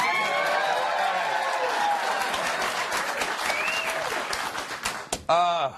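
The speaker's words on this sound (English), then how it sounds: "Please applaud again if we should all get raises." A studio audience claps and cheers in a broad, loud burst that slowly thins out, then a voice with strongly pitched tones cuts in near the end.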